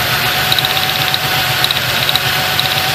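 A Ford Ranger engine idles roughly with a misfire from a bad spark plug. The loud, close mechanical drone is broken by uneven periodic thumps and stumbles, and there is no talking.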